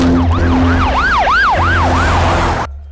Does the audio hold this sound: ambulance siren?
yes